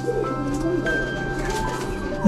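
Domestic pigeons kept at a mud house in a rural village coo softly in the background, low murmuring calls blending with steady outdoor noise while a person talks over them.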